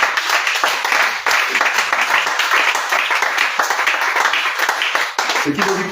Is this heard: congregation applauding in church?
yes